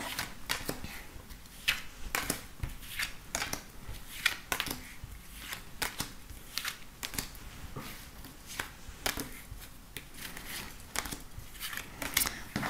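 Tarot cards are shuffled and drawn in a quiet room. Crisp papery riffles and slaps repeat at an irregular pace, close and fairly soft.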